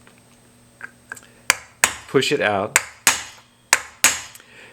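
A hammer strikes the outside and top of a copper vessel being raised, in sharp, ringing blows at an uneven pace, with a brief metallic scrape in the middle and quiet room sound between hits.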